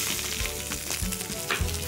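Chicken sausages sizzle on a hot grill grate in a steady, dense crackling hiss with small pops, fairly close and without voices.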